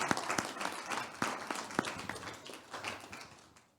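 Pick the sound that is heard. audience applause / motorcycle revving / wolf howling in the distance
audience applause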